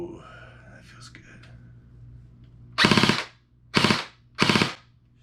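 An LCT LC-3 airsoft electric gun dry-fires without BBs in three short mechanical bursts of rapid clattering, close and loud, after a quiet stretch with faint whispery voice.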